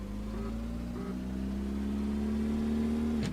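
A 1960s roadster accelerates with a steady, droning engine note that rises gradually in pitch, then ends in a sudden sharp shift near the finish.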